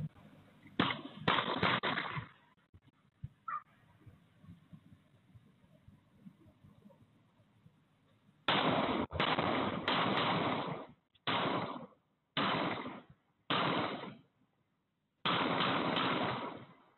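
Gunshots recorded by neighbourhood security cameras: a quiet stretch with a few early pops, then several loud, clipped bursts of rapid shots in close succession separated by brief gaps, with no talk.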